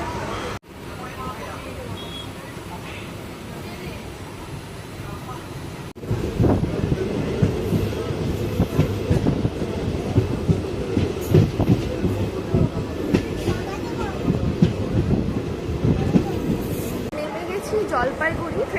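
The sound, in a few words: Darjeeling Mail train running on the rails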